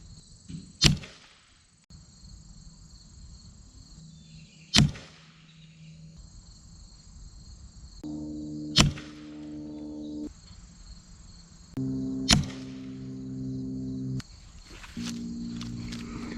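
A Gamo Magnum air rifle fitted with a Tune-in-a-Tube fires Crosson 14.3 grain domed pellets at a target about 20 yards away. Four sharp, separate shots ring out several seconds apart over a steady background hum of insects.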